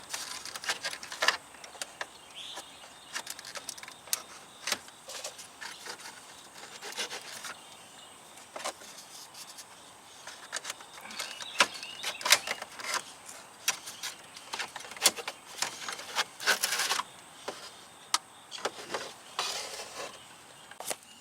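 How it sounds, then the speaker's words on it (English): A small plastic trim tool pries and works around the gauge cluster trim of a Ford Mustang, making scattered soft clicks, ticks and scraping rubs close by, with no talking. "I'm just using this little plastic trim tool. I'm just working around."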